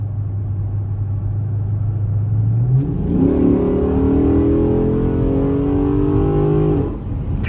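A Chrysler 300C SRT8 on new Firestone Firehawk Indy 500 tires idles with a low rumble, then accelerates hard, its engine note climbing steadily for several seconds before easing off, heard loud and close from inside.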